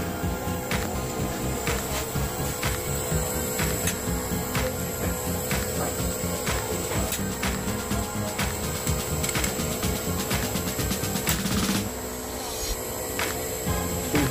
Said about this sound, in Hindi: मोटर भी देखिए आउटडोर का चल रहा है।